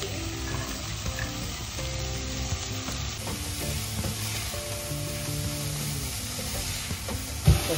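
Bacon, onion and carrot sizzle steadily in a hot pan, with a constant frying hiss and occasional stirring scrapes running throughout, and one louder knock near the end.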